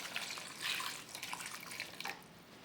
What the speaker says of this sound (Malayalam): ഒരു കപ്പ് വെള്ളമുണ്ട് അത് പാർന്നു കൊടുക്കാം